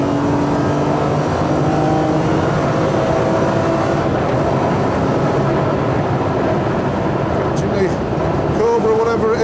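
A racing car's engine at Cadwell Park circuit, around 2004, droning loudly and continuously as it pulls out of Barn corner, with someone talking over it throughout.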